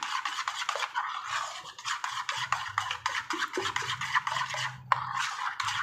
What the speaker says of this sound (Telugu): ఒక గిన్నెలో వేసి మొత్తం కొంచెం వాటర్ పోసి కొద్దిగా జోరుగా ఇలా మొత్తం మిక్స్ చేయాలి